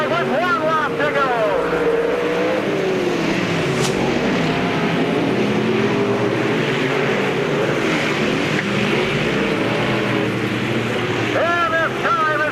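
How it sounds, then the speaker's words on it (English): Race cars roar around a short-track speedway during a Miller Lite Cup night race, with a continuous loud engine drone and rising and falling passes while an announcer calls the finish over a PA. "And this time as he heads on a turn number 4, the checkout flag falls for Randy Murray"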